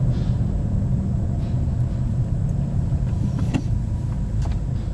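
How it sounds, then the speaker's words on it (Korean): A manual car pulls uphill in first gear at about 20 km/h, its engine revved to build acceleration, giving a steady loud rumble from inside the cabin with no talk. "1단을 넣고 이렇게 RPM을 띄워가지고 내가 원하는 정도의 가속을 만들어준다"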